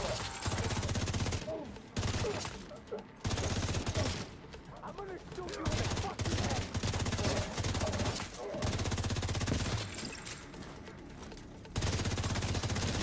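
Sustained automatic gunfire from The Division 2 comes in loud, close bursts several seconds long, cut by brief gaps. A voice talks at times between and under the shots.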